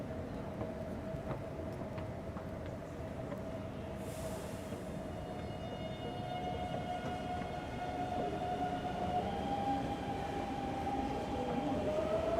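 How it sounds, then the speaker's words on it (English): A train runs at Taipei Main Station with a steady rumble and a rising tonal whine as it moves, plus a brief hiss partway through, heard close and without talk. "It's the busiest train station in Taiwan, the Taipei main station."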